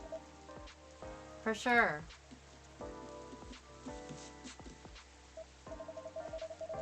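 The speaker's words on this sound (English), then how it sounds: "A place to be safe while the rain falls outside." Rain falls outside in a soft, continuous patter that runs steadily beneath gentle music, with a brief voice speaking partway through.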